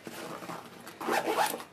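A YKK zipper being pulled shut on a Think Tank Streetwalker HardDrive DSLR camera bag, two close, scratchy zipping strokes, the second longer and louder.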